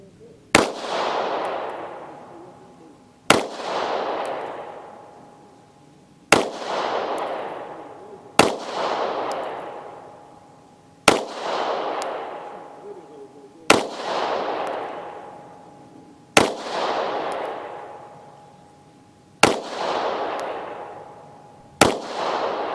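A Taurus GX4 micro 9mm pistol fires 115 grain jacketed rounds, eight sharp, loud shots spaced a few seconds apart, each followed by a ringing outdoor echo, with no talk.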